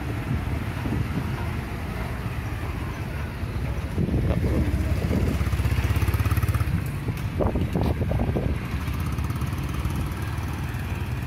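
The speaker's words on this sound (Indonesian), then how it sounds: "Oh, ada motor lewat." A motorcycle passes near the grave site of Banyuwangi regents beside a mosque. Its engine noise swells over steady wind buffeting the microphone, peaks for a few seconds, then fades away.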